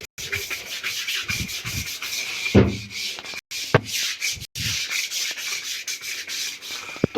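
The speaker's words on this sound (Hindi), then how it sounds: "ब्रश से घिसते हैं अच्छे से।" Stiff brush scrubbing a floor or can while washing a room, steady rasping back-and-forth strokes close by, with a few brief pauses and knocks, no talk.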